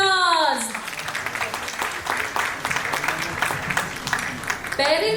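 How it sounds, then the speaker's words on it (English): Audience applause at a school annual day celebration in a kindergarten auditorium, a dense spell of clapping lasting several seconds with children's voices mixed in, opening and closing with brief speech. "A big round of applause."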